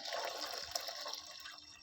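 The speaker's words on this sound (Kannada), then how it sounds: "ಅದೇ ಕಪ್ಪಲ್ಲಿ 4ರಷ್ಟು ನೀರು ಇದು ಮೆಜರ್ಮೆಂಟ್ ಮಾಡಿ ಇಟ್ಕೊಂಡಿದ್ದೀನಿ, ಹಾಕ್ತಾಯಿದ್ದೀನಿ" Water is poured into a cooking pot for rava pongal, a measured four cups, producing a continuous soft splashing hiss at moderate distance with no voices.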